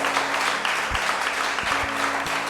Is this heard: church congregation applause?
yes